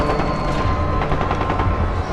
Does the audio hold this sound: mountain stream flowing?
no